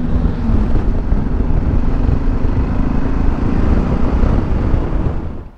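A steady, loud roar of a motorcycle engine and rushing wind while riding in Bucharest, continuous for several seconds before easing off at the end.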